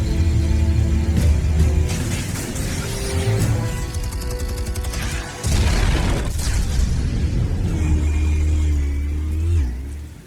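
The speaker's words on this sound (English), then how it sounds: "Explosives armed. Fire when ready." Explosives detonate in Batman: The Telltale Series, heavy booming blasts with rumbling low-end and debris over a dense, loud game soundscape, swelling again midway before trailing off.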